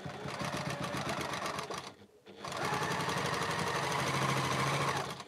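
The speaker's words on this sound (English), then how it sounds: "I'm going to take this background sashing strip and I'm going to sew it onto our block one" A sewing machine runs close up, sewing a background sashing strip onto a quilt block with a quarter-inch seam, a steady whirring burst broken by one short pause before it starts again.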